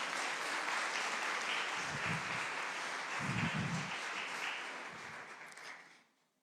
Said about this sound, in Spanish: Y démosle un aplauso al Señor porque nos ha bendecido.